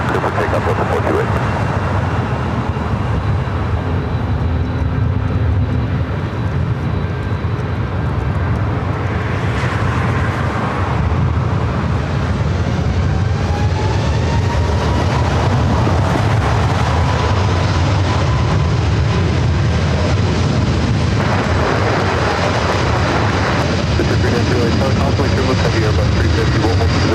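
A jet airliner takes off from runway 24 left at Los Angeles International Airport, its engine roar steady and loud throughout with a rising whine partway, heard from the spotting area with a voice talking over it.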